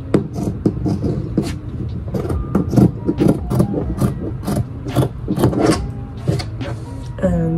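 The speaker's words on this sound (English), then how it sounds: "I'm gonna start cutting the shape for the teddy bear ear with seam allowance in mind" Scissors cut through fabric for a teddy bear ski mask ear, making a series of close, crisp snips and rasping rubs in an uneven rhythm, with no talking.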